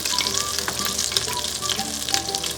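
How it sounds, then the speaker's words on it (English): A few pinches of cumin seeds hit melted butter for dal makhani, giving a close, lively crackling sizzle with rapid tiny pops throughout the short stretch. "Once the butter is melted, we're going to add few pinches of cumin seeds"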